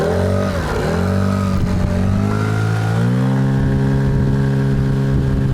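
A two-stroke outboard motor runs on cheap Gazpromneft two-stroke oil, holding a loud, steady drone with a slight dip in pitch near the start and a small step up in pitch partway through.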